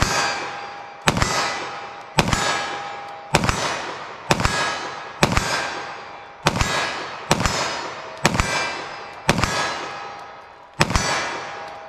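Ten 9mm+P pistol shots fired at a 25-yard target ring out one by one at a steady pace of about one per second. Each crack is sharp and loud and rings briefly before the next.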